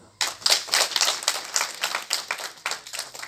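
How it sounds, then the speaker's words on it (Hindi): Audience applause at a live Punjabi singer's stage performance, a burst of many hands clapping that starts abruptly and carries on steadily for a few seconds with no talking over it. "अगर आपको बात अच्छी लगती है तो आपकी तालियां चाहूंगा"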